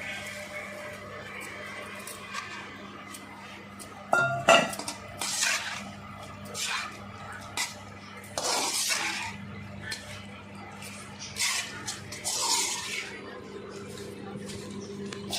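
Fried mushroom pieces tossed into pickle in a bowl, with soft squishy stirring, scraping and occasional clinks of utensil on the bowl, spread irregularly across the mixing.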